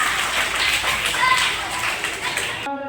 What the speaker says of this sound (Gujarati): ચાલો એકવાર તાળી થઈ જાય.